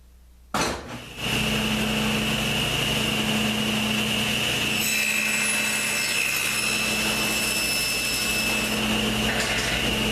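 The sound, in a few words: sawing wood for a pool cue rack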